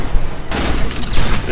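Rockets firing and exploding in Transformers: War for Cybertron: a loud sudden blast breaks in halfway through, followed by a rough crackling barrage of booms close by, with no talking.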